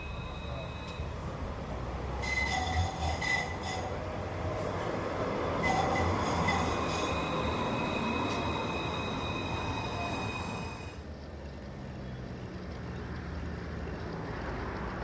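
A modern tram runs on rails in France, rumbling steadily as its wheels give high, ringing squeals for several seconds before the sound drops to a quieter rolling hum.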